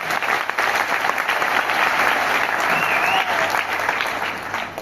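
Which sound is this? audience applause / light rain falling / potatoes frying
audience applause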